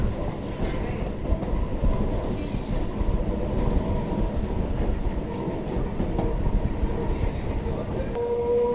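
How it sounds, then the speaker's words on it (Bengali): A train pulling into Gede station on the India-Bangladesh border rolls steadily on the rails with a constant heavy rumble and faint clacking, close and loud throughout, a brief squeal near the end. "ট্রেনটা যে গেদে ঢুকছে, গেদে স্টেশনে"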